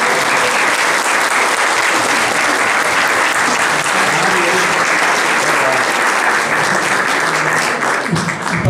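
Loud, sustained applause from an audience at an award ceremony honoring women's philanthropic work, a dense, continuous roar of many hands clapping that holds steady for several seconds before tapering slightly at the end.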